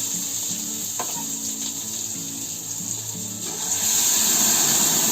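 Dal poured into a hot tempering of asafoetida and coriander, giving a steady close sizzle and hiss that swells louder toward the end, with no talking.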